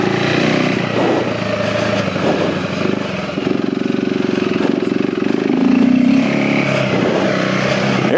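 2025 KTM 390 Enduro R single-cylinder motorcycle fitted with a DNA air filter, idling and blipping nearby with a buzzy, loud intake note that rises and settles over several seconds.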